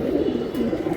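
A Beji breed pigeon gives a short, soft, throaty coo, close by against a steady low background.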